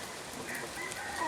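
A jungle fowl rooster crows once at moderate distance, its drawn-out call rising and trailing off, heard where peacocks and wild fowl gather to be fed in Thailand, with no people talking.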